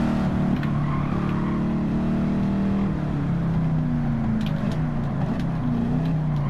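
A Ford Mustang Mach 1 engine in Gran Turismo rumbles loudly and steadily, its low tone shifting slightly in pitch as it runs, close and continuous with no talk.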